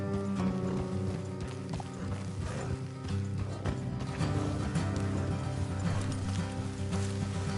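Horses' hooves clip-clopping along a road in a PS4 video game, a steady close rhythm of clattering hoofbeats layered over busy game ambience and faint mechanical clicks.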